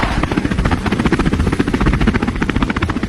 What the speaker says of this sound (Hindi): चलो अब चालू हो जाए हेलीकॉप्टर।